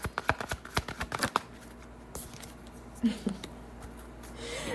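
Tarot cards being shuffled by hand, a quick run of crisp riffling flutters followed by softer slides and taps, close and fairly loud with no talking.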